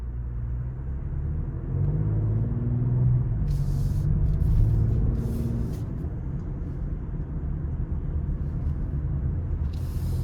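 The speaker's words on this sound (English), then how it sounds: "let's go ahead and take this 2025 Explorer ST out on the road for a test drive." A 2025 Ford Explorer ST with a twin-turbo V6 driving on the road, a steady low engine and road rumble from inside the cabin, rising slightly midway, with faint clicks and ticks over the drone.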